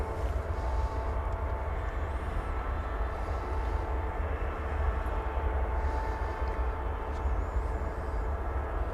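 An airplane landing on runway 18 right at DFW Airport gives a steady, heavy low-frequency roar that holds constant for the whole stretch, with no voices over it.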